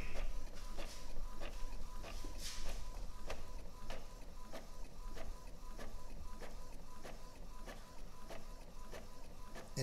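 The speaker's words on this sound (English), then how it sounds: "Print these 4 pages out." An Epson 2720 inkjet printer converted for sublimation runs off several pages, its print head shuttling back and forth in a quiet, regular rhythm of whirring passes and clicks, close by with no talk.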